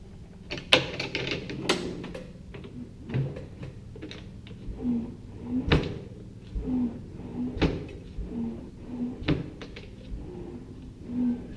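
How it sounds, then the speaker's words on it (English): A drawer is slid repeatedly into a tool cart, giving a series of clunks, knocks and scraping slides spread across the clip, close and moderately loud. "Let's see if the drawer fits now."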